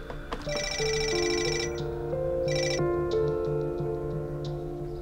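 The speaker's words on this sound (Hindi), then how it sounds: "सानिया, मैं फोन का इंतजार ही कर रही थी।" A melodic phone ringtone plays loudly and continuously, with bright chiming tones layered over a steady musical backing, no voices present.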